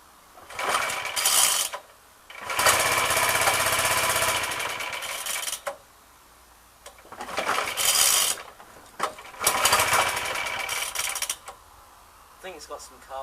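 A Suffolk petrol lawnmower engine with suspected carburettor trouble, needing choke, catches and runs in loud clattering bursts that cut out in between, several separate runs of rough mechanical chatter close by.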